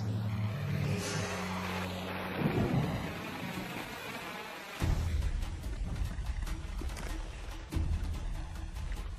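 Steady rain pours down in the Amazon rainforest while thunder rumbles heavily, with a deep crack midway and further low rolls afterward.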